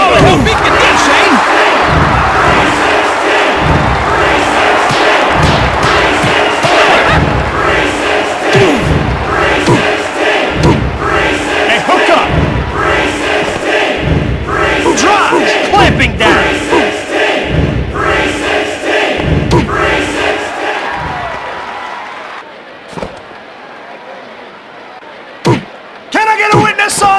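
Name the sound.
wrestling crowd cheering in video game WWF Attitude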